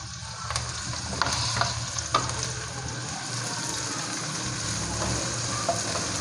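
Onions and green chillies sauté in a pan for okra sabzi, a steady close sizzle and crackle with occasional stirring scrapes and clicks, no voices.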